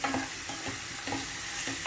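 Chopped tomatoes fry with ginger-garlic powder and masala in a pan for a chicken kofta curry, giving a steady close sizzle broken by regular scraping stirs about every half second, with no voices.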